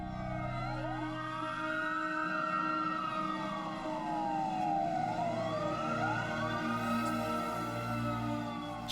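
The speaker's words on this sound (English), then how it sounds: "he could hear sirens coming from miles around." Several fire engine sirens wail in long rising and falling sweeps, overlapping and steady in loudness, heard from a distance with a low rumble of traffic underneath.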